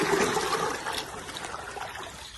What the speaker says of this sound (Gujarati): હવે આપણે છે ને હાંડે હાંડે પાણી રેડવાનું છે